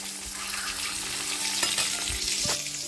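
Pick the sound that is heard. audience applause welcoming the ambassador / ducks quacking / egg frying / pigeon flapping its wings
egg frying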